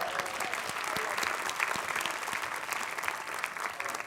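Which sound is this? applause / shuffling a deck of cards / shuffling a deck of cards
applause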